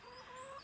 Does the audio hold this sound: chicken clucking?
yes